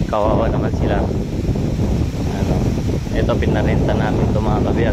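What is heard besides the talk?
strong wind blowing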